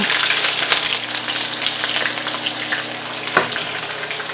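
Onion hitting a very hot pan fills the scene with steady, loud sizzling and crackling, plus a brief sharper burst near the end, with no one speaking.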